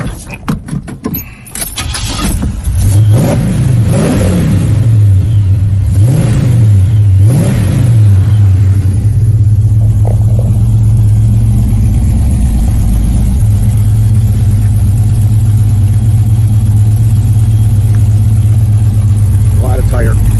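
Keys jangle briefly before a muscle car engine cranks, catches and revs a few times, then settles into a loud, steady rumbling idle close by.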